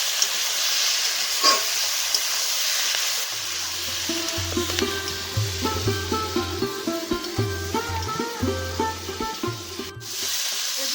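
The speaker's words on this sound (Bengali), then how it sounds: "লবণ হলুদ এখন ভালো করে এগুলোকে ভেজে নেব এগুলো" Spring onion greens, red potato and eggplant fry with dried fish, salt and turmeric in a pan: a loud, constant sizzle broken by a quick, regular series of stirring scrapes against the pan.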